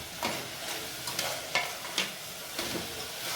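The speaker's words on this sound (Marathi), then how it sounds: "आता आपण त्यामध्ये जे बटाट्याचे काप करून घेतले ते टाकायचे, शेंगदाणे टाकायचे आणि चांगलं मिक्स करून घ्यायचं आहे" Sliced potatoes and peanuts are stirred in a hot pan with softened onion for a Nilanga-style rice dish, gentle sizzling broken by several distinct scraping strokes of a spoon at irregular intervals.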